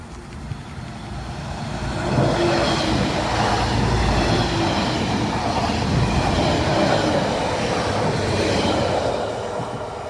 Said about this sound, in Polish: A chyba to jednak nie jest ten pociąg. I co? Jedzie, jedzie drugi